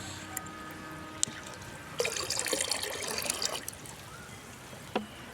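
Beetroot liquid fertilizer solution being poured into a container, a brief splashing pour in the middle amid faint, sparse drips and quiet background.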